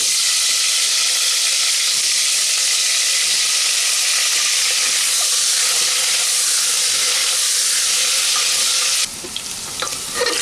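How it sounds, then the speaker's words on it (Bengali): Potatoes frying in oil with salt and turmeric for a mutton curry, giving a loud, continuous hissing sizzle close by that shifts and grows rougher near the end, with no talking. "আলুগুলো আমাদের ভাজা হয়ে গেছে।"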